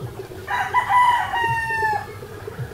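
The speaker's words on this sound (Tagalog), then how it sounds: "So ito yung isang golden boy pullet natin na kakahuli lang kagabi" A golden boy pullet crows nearby, one clear drawn-out call rising and falling over about a second and a half, with faint farmyard background around it.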